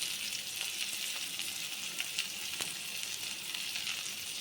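Tomato skins added to frying liver sizzle in a pan with a soft, even hiss and a few faint pops and crackles, quiet and alone.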